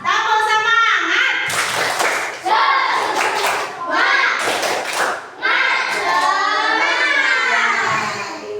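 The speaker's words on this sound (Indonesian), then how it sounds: "Ya, tepuk semangat dulu ya" Primary school children perform a rhythmic spirit clap, bursts of hand claps and thumps alternating with loud group shouting and chanted voices, the sections coming in energetic waves close by.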